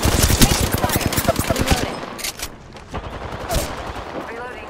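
Apex Legends gunfire crackles in fast, close bursts of rapid shots for the first couple of seconds, followed by sparser distant pops and in-game clatter.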